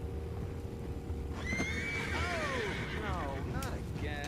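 A horse in the video game Red Dead Redemption II whinnies loudly in a long, wavering call, with a second shorter neigh following, over steady low background rumble and faint hoof sounds.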